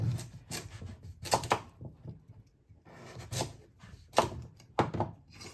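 Knife cutting a pumpkin into smaller pieces on a board, a series of sharp irregular chopping knocks with brief pauses between cuts, close and clear.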